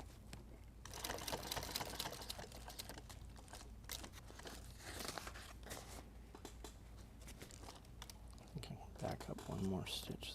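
A sewing machine stitching a load-bearing vest, with close, rapid mechanical chattering in uneven bursts and short pauses between runs.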